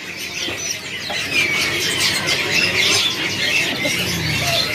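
Songbirds, including ciblek (prinia), squawk and chirp in a dense, continuous chorus at a bird kiosk in Pasar Burung Pramuka, a busy Jakarta bird market, with bright overlapping calls that run steadily throughout.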